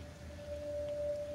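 Acid rain falls in the video game Kenshi as a steady, soft hiss that holds evenly throughout, with a faint sustained tone running underneath.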